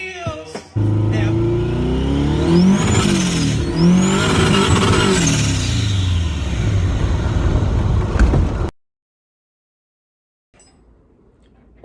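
A VW Karmann Ghia engine revs hard while its wheels spin for lack of traction, a loud sustained roar with rising and falling pitch sweeps, then cutting abruptly to near silence.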